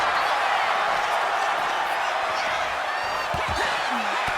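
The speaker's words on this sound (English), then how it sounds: "Crowd letting their voices be heard here tonight." Crowd at a live community wrestling show roaring in a dense, continuous wash of cheering and shouting, with a few whoops rising above the noise.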